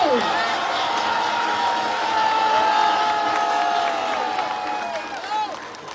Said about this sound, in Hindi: जोरदार तालियां बजाते रहे और बजाते रहे।